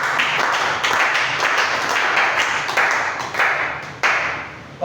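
A church congregation claps for the Lord in a fast, steady rhythm, many hands together filling the room loudly and continuously.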